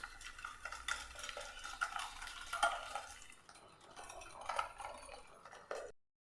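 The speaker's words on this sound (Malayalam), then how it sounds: "അപ്പോൾ ഞാനിപ്പോൾ ഇവിടെ വിസ്ക് വെച്ചിട്ട് നമ്മൾ ഇതേപോലെ ചെയ്ത് കൊടുക്കുമ്പോൾ പെട്ടെന്ന് തന്നെ അങ്ങ് മെൽറ്റായി വന്നോളും" A whisk stirs eggs and sugar in a bowl, with steady close scraping and light clinking against the side for several seconds before it stops abruptly, and no one speaks.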